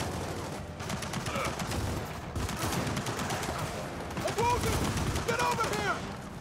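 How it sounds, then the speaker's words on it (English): Video game gunfire aimed at a turret, heard as rapid repeated shots and bursts over a continuous noisy battle background, with game sound effects mixed in. "I'm trying to shoot the turret."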